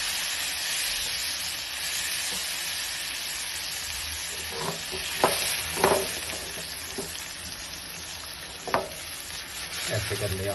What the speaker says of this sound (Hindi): और हिलाते रहना इसको, गुठलियाँ ना बने